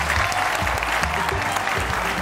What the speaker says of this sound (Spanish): Un aplauso para Carmen Cabeza,